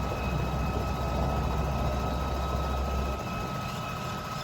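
Tractor engine running as the tractor drives through a farm field, a loud, steady low drone with a constant hum and rattle close by, easing slightly near the end, with no voices.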